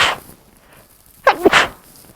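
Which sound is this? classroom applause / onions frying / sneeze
sneeze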